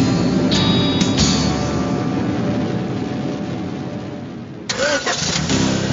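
A car engine in a Grand Theft Auto: Vice City radio ad cranks and roars to life in a loud, sustained rumble that slowly fades, followed by a sharp mechanical clunk and renewed revving.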